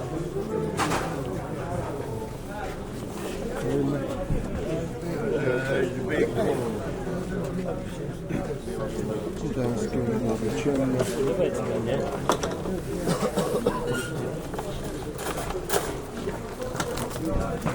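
Pigeons for sale coo softly through a busy bird market crowd in Grajewo, their calls half buried under steady nearby talking and market chatter.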